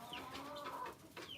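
Chickens clucking on a small farm, several close overlapping clucks and calls in quick succession, moderately loud, with no talking.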